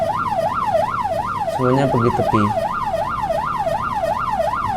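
An ambulance siren wails in a steady, rapid up-and-down cycle through Malaysian traffic, loud and continuous, with someone speaking briefly partway through.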